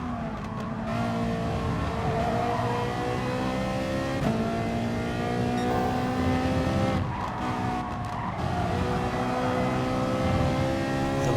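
Racing cars in a Gran Turismo Sport manufacturer's series race, a close multi-car battle with GT86 and Mercedes cars: engines whine and rev continuously, pitch rising and dropping through shifts, with faint tire squeal and no talk.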